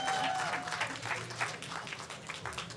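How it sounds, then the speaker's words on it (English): Applause from a live audience at a talk event, a short burst of clapping that is fairly faint and thins out over a few seconds, with no clear speech above it. "How about applause for everybody on the live stream?"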